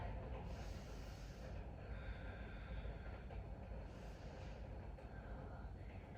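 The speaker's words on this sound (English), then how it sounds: "I'm just taking in a couple more deep breaths here" Faint, slow deep breaths taken during a vinyasa yoga stretch, with two soft airy inhale-exhale swells over a steady quiet background hiss.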